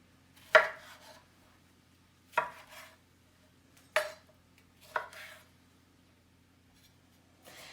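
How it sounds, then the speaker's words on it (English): Knife rough chopping tomatoes for habanero salsa on a board: four separate sharp chops spaced about a second apart, close and crisp, with quiet gaps between and no talking. "you just basically rough chop these just like we did the onion"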